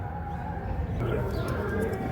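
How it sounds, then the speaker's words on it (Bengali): Four pigeons, including a pair of red-striped lal shira birds, coo softly and close as they are let go together, the low cooing running under someone talking. "এই চারটে পায়রা এবার আপনাদের আমি একসাথে ছেড়ে শক করে দিচ্ছি"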